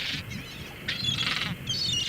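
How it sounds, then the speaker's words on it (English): A seagull in the video game The Secret of Monkey Island gives a few short, harsh squawks in a row, fairly faint over a quiet game background. "Allez, va-t'en la mouette, va-t'en."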